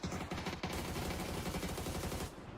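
Gunfire in a competitive shooter video game, a rapid burst of shots at modest volume that cuts off near the end, with no talk over it.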